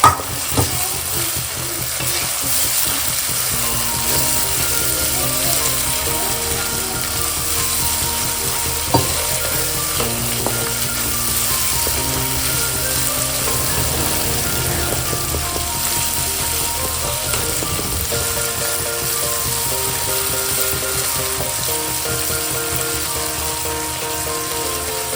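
Spice masala frying in hot oil for a katla fish curry, a loud continuous close sizzle and crackle with occasional stirring, nobody talking.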